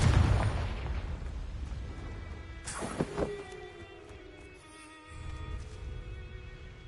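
Confringo explosion spell cast in a Hogwarts game: a sharp burst and booming blast near the three-second mark over a rumbling, busy game soundscape, with a ringing tail afterward.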